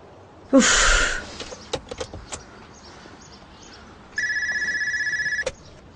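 A telephone rings on unanswered: a loud burst of ringing near the start, then a steady electronic trill lasting over a second near the end, with scattered clicks between and no talk.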